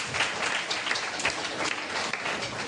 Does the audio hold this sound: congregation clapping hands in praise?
yes